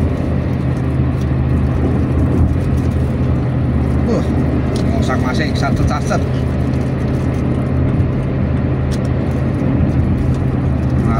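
Heavy engine roar of a chili-hauling truck speeding along the road, steady and close for the whole stretch, with someone talking briefly over it.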